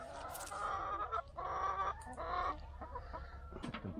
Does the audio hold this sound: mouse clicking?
no